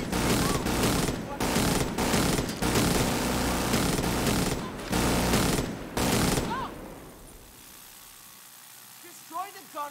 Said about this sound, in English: Careful! Minigun!